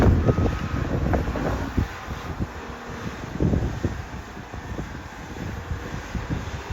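Gusty wind blows outdoors, buffeting the microphone with uneven low rumbling bursts that rise and fall throughout, loud and close, with no speech.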